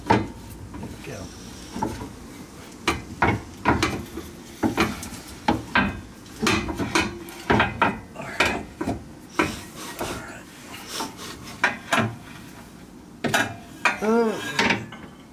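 Front sway bar being wiggled out of a Subaru WRX, a run of metallic scraping, rubbing and clunking knocks in irregular bursts, close by, with a voice talking over parts of it.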